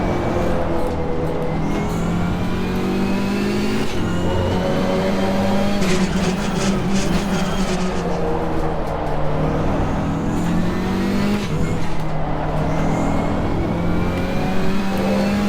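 KTM X-Bow race car engine in Assetto Corsa Competizione, droning loudly and continuously as revs rise and fall through a corner, with a steady whine layered over the engine note and no talking.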